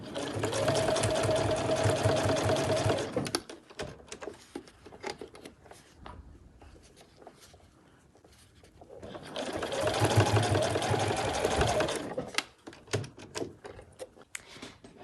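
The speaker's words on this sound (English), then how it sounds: "So there's my seam I've just sewn all the way along there." A sewing machine runs in two bursts of rapid stitching along a seam on a backpack front flap, loud and close, with a quiet pause of handling noises between the runs.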